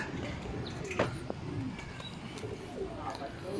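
A racing pigeon arriving at its loft during a 157 km fun race in Calauag, Quezon, with soft coos and a short flutter close by while people talk.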